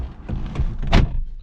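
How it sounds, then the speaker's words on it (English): A solid thunk of a 2005 Volkswagen Jetta TDI wagon's door shutting at close range, preceded by softer handling and rustling sounds. "Let's hop in and close this door"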